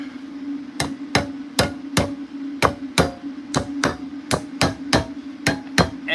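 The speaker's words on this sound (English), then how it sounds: "use a hammer to make sure your paint cans are shut" A hammer taps down the lid of a paint can in a run of about fifteen sharp, close metallic strikes at an uneven pace, over a steady background hum.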